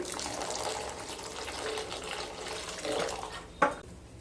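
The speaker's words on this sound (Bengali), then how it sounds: "মিশিয়ে নিয়ে পরিমাণ মতো গরম জল দিয়ে দেব।" Hot water pours into a pot of dal with a steady close splashing gush, ending in a brief clink of a utensil.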